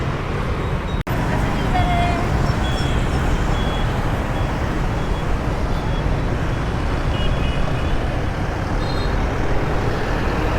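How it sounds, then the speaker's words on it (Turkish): Dense city street traffic in Saigon with cars and motorbikes, a loud continuous roar of engines with a sharp knock near the start, steady throughout. "Çünkü arabalar, motorlar her yerde."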